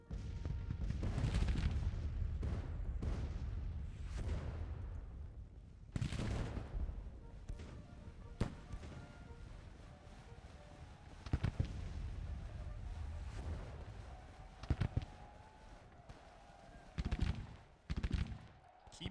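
Civil War musket and artillery fire in the Grand Tactician strategy game crackles in irregular volleys and bursts, some sharp and near, others dull and distant, spread over a long stretch of battle.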